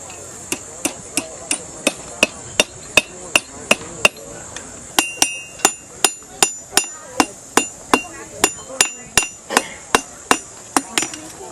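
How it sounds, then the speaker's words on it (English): A hammer strikes a metal tip in a steady, even rhythm, more than two dozen bright, ringing blows close by, each one sharp and distinct, with no talk. "so that I can hammer on it and not mess it up"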